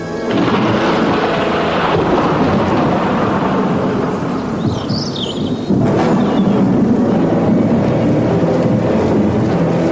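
Rolling thunder rumbles loud and close through a thunderstorm with steady rain, a continuous broad roar that swells again partway through.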